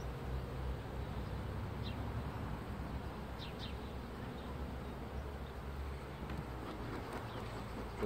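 Agitated honeybees at an opened hive give a faint, continuous droning buzz at a distance, with a few higher passes as single bees fly close; no voices.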